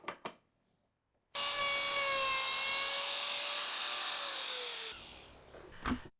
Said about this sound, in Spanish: uso mi lijadora de banda y el router para suavizar los bordes